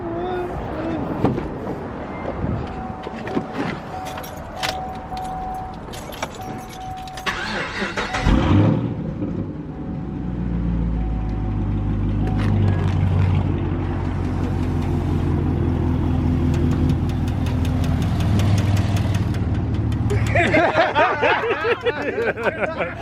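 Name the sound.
Chevrolet Camaro SS engine starting and idling with modified intake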